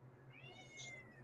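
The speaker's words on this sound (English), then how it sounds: "it's my cat. She keeps meowing." A pet cat lets out a single drawn-out meow, rising then falling, heard indoors at a moderate distance over a low steady hum.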